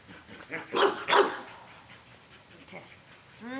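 A female dog at an agility class gives two sharp, excited barks, followed by softer whines and a faint voice.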